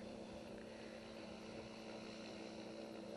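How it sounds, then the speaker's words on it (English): A gyroplane with a Rotax engine runs at a 1995 flying club fly-in, giving a steady, faint engine drone with a fixed hum and rushing wind noise. No voices are heard. "It's got a Rotax engine on there."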